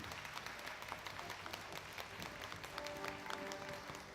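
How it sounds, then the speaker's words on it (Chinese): Warm, sustained audience applause at a Hakka jazz music album launch concert in Taipei, welcoming a musician to the stage; dense clapping fills the whole stretch at steady loudness without pause. "我们一起热烈掌声欢迎"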